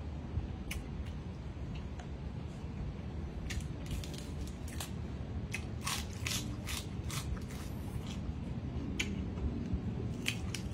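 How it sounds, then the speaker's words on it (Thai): Someone chews a spicy Isan papaya salad (tam sua) close up, producing a series of sharp, irregular crunchy bites and clicks over a low background hum. "อันนี้เสียงกรอบธรรมชาติเด้อ"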